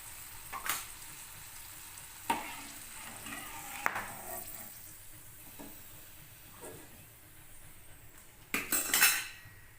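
Snake gourd bajji fries in hot oil with a soft background hiss, broken by metal ladle clinks and scrapes against the pan as the fritters are lifted out, with a louder clattering burst near the end.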